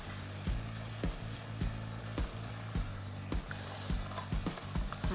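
Egusi soup is stirred in a pot on the stove over a steady low simmer and sizzle, with a spoon knocking and scraping at a regular beat about every second.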